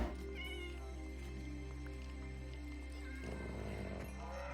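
A Minecraft cat meows softly a few times over steady game background music, the calls short and fairly quiet.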